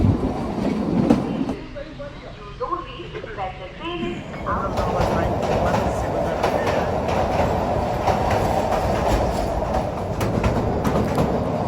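Kalka-Shimla toy train on the mountain line rumbling through the 992-metre tunnel no. 91 near Tara Devi station, with a loud, steady roar and rattle of wheels filling the enclosed space; voices are heard near the start.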